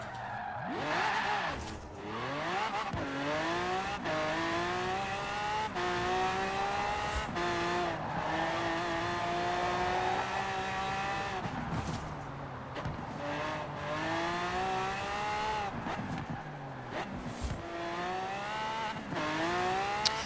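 A Lamborghini V12 racing engine in Forza Horizon 4 revs hard through repeated rising and falling gear changes, loud and close, with brief tire squeals as the car corners.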